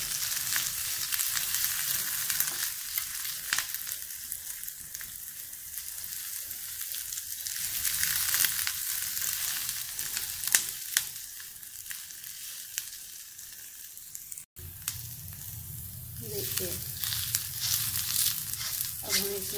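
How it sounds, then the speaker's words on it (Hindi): Chopped onions fry in a pan for malai kofta, giving a steady close sizzle that runs almost nonstop, with a brief gap and louder bubbling crackle near the end. "गोल्डन ब्राउन कलर के हो जाएंगे तब तक हम ऑनियन को पकाएंगे।"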